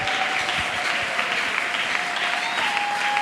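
A church congregation applauding God during a Sunday service, dense sustained clapping from many hands filling the room at even loudness throughout, with a faint tone running underneath.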